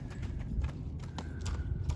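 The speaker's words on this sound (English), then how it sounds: "Here comes the horses, boys and girls, and they know exactly where they're gonna go." Horses walking in at feeding time on a farm, their hooves clip-clopping in an irregular steady rhythm close by, over low rumbling background noise.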